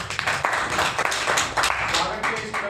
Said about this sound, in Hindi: सभी ताली बजाकर